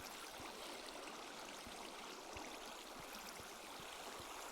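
Player-placed flowing water in a Minecraft-style survival game, a steady soft rushing stream with faint bubbling, continuous and fairly quiet, no voices.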